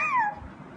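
A child imitates a cat's meow with a single short, clear, rising-then-falling vocal mew, close and fairly loud, followed by quiet.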